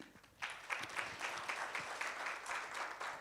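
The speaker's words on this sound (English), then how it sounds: "A round of applause to yourselves." Applause from stakeholders attending a municipal annual general meeting, a moderate crowd clapping steadily after a brief quiet start, fairly distant and even throughout.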